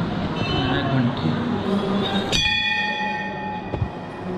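A metal bell rings once with a sharp strike and a long, bright ringing decay at a Durga temple during Vijayadashami festivities, over busy crowd noise, with a fainter second strike just before the end.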